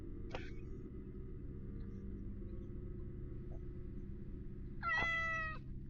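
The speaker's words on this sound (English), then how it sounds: "Those are normal, friendly cat sounds." A friendly domestic cat gives two distinct meows, a short one near the start and a longer, louder one near the end, over a steady low background rumble.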